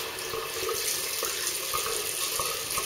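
Tap water runs steadily into a sink while shaving soap is rinsed off, a continuous close splashing rush with small irregular spatters, no voices.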